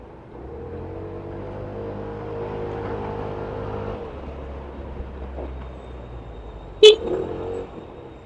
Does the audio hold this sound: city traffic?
yes